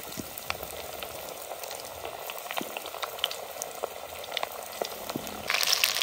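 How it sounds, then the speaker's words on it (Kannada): Ivy gourd (tondekai) frying in hot oil in a pan: a steady close sizzle with scattered crackles and pops, growing briefly louder and busier near the end as the pieces are stirred. "ತೊಂಡೆಕಾಯಿ 2 ನಿಮಿಷ ಫ್ರೈ ಆದರೆ ಸಾಕು"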